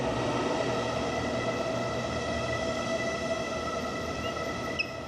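A train pulls away from a platform in a city station, heard as a steady, broad rumble and whine that carries on without a break, with no talking.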